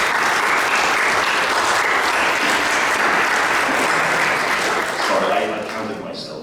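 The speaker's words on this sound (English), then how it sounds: "a warm round of applause for our 6 panelists" A large conference audience applauds loudly and steadily for a panel, the clapping sustained for several seconds before gradually fading.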